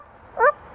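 A talking parrot gives a single short, high bark-like call imitating a dog, a brief voiced yelp standing alone in a quiet room.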